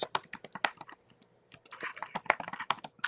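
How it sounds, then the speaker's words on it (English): Rapid, irregular clicking of keys on a computer keyboard, close and soft, with a short pause before the typing resumes. "I'm sorry, I was typing."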